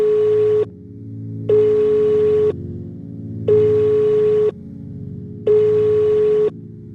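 A telephone busy tone follows a disconnected call, sounding as four evenly spaced, loud steady beeps with silent gaps between them and nothing else heard.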